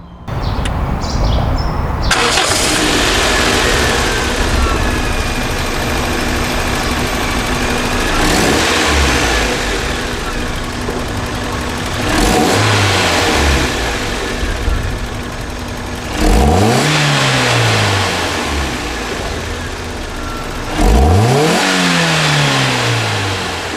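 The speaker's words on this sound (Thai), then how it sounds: "มาฟังเสียงเครื่องยนต์กัน" A Toyota Soluna AN50 with a 16-valve twin-cam four-cylinder engine and five-speed manual idles steadily, then is revved several times, each rev a rising and falling roar heard up close.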